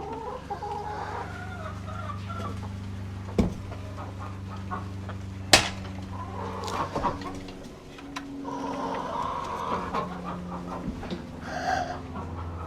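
Pekin ducks on a farm during morning chores, with steady clucking and quacking calls running throughout, a couple of sharp knocks and clatters, and birds close by with no talking.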